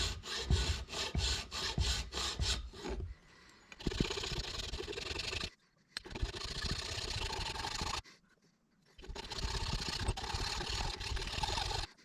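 Wood is worked by hand with a file while a homemade bicycle mount for a GoPro camera is being built, giving steady, close rasping strokes in long runs with short pauses between them.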